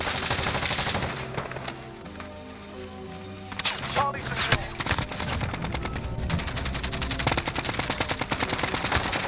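AN-94 rifle fire in the video game Modern Warfare comes in loud, rapid bursts, with a brief quieter lull before the shooting resumes densely to the end.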